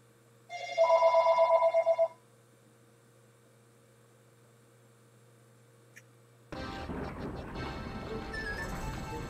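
A telephone rings in the SpongeBob Revenge of the Flying Dutchman video game: one loud, rapidly pulsing trill lasting just over a second over a quiet hum, followed later by a steady wash of noisy game ambience.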